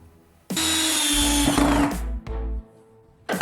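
Power drill driving a screw into a hole filled with a hammered-in wooden dowel, a loud close whine with a rising strain under load, then a brief pause and two shorter bursts.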